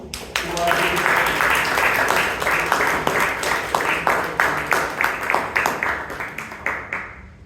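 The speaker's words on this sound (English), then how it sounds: "A big round of applause to him." A crowd at a Toastmasters club meeting in Bangalore applauds with dense clapping that thins into slower, rhythmic claps toward the end, with a voice faintly underneath.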